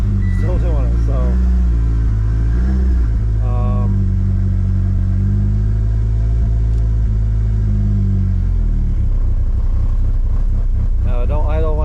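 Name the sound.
car engine running, warmed up to idle in cold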